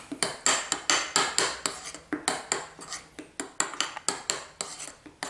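Honey mustard mayo sauce with seeded mustard whisked briskly in a bowl, a fast run of rhythmic clinking utensil strokes against the bowl's side, close and fairly loud, no talk.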